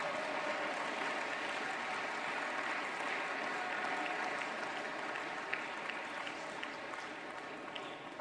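An audience at a party congress applauds with a steady, even wash of clapping that carries on without a break, sounding somewhat distant and fairly soft throughout.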